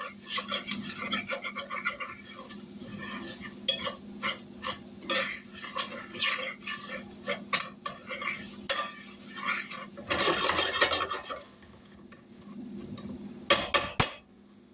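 Rice-A-Roni browns in butter in a pan, a spoon scraping and stirring it in irregular close strokes with faint sizzling underneath, briefly louder in bursts.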